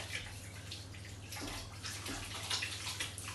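Hot water runs steadily from a tap while hands are scrubbed clean with antibacterial soap. A soft, even hiss continues throughout with faint splashing and no clear voices.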